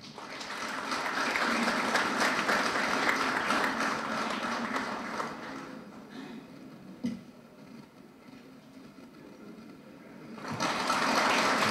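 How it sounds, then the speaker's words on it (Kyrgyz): Applause from a seated audience at a formal ceremony in Kyrgyzstan, steady and full for several seconds, dipping into quieter scattered claps midway before swelling again near the end. "Кол чаап коюңуздар."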